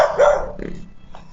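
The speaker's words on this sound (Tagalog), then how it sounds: "Oh, may aso na naman." A dog barks outdoors, giving a few short, fairly close barks in quick succession, with some background noise and no talking.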